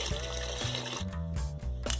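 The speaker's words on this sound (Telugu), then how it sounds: "ఫ్రెష్గా వాటర్ పట్టుకోవాలండి" Fresh water runs into a container for soaking dosa batter ingredients, a steady close splashing flow with small gurgles as it fills.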